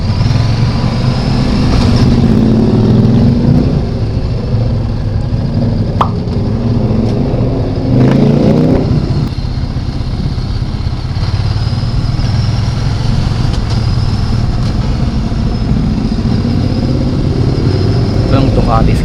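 A 400cc Ducati Scrambler motorcycle engine runs loud and close, rising and falling in rough revs, with people talking over the rumble.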